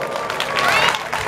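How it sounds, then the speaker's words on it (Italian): Crowd applause at an outdoor summer festival in Rione Faito, Castellammare di Stabia, a brief burst of clapping from a large audience mixed with babble and a voice over it. "Un forte applauso a loro."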